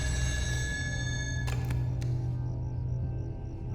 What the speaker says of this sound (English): you'll continue to receive these recurring phone calls at seemingly random intervals, fit with a lower pitched and almost demonic ringing to them